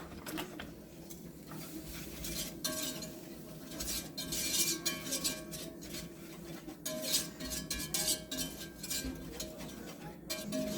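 Flour being stirred into oil in a pan for deer gravy, with rapid scraping and clinking of a utensil against the pan in an uneven, continuous rhythm, close and moderately loud.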